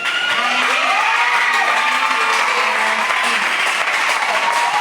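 Warm applause with cheers and children's shouts breaks out as a gathering encourages a child who has just recited a Bible verse, steady clapping that stays loud throughout.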